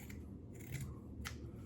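Scissors snipping through a T-shirt being cut into strips for a rug, a few quiet crisp cuts up close.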